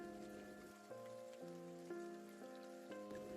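Soft rain patters as a steady, faint wash under gentle, slowly stepping melodic notes, used as an audiobook sound effect for a rainy night.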